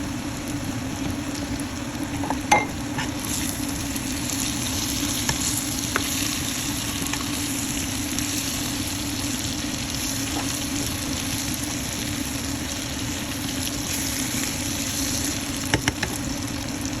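Gizzard frying in a pan, a constant dense sizzle with crackling and occasional sharp pops and utensil clicks, close and steady throughout with no talking.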